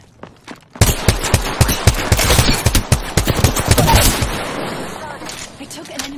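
Rapid automatic gunfire in Apex Legends on Kings Canyon, playing Wattson. A loud, close burst of shots starts suddenly, rattles on densely for several seconds, then thins and fades into a ringing tail.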